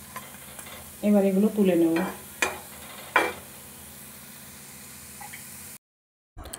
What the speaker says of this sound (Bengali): আমি এগুলো এপিট ওপিট করে খুব ভালোভাবে ভেজে নিয়েছি প্রত্যেকটা বড়াই